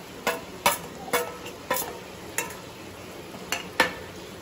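A spoon stirring chicken curry with crushed onion in a pan makes sharp clinks against the metal, about nine spaced scrapes and taps over a faint background sizzle, with no talk.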